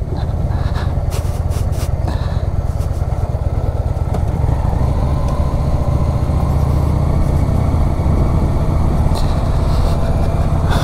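Old-school chopper motorcycle being ridden on a tour near Bad Pyrmont, with a loud, continuous, throbbing engine rumble and wind buffeting close to the rider throughout.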